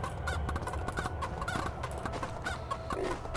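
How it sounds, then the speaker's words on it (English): A chicken in the video game AMC Squad clucks steadily over a dense, continuous game soundscape, with no one speaking. "Pick up the chicken, I guess,"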